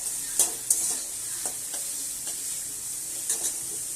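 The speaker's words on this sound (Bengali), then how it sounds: "সবজিগুলো ভাজা ভাজা হয়ে গেছে" Cut vegetables frying in a pan, a steady bright sizzle with several spatula scrapes and taps across the span, close by and moderately loud, with no talking.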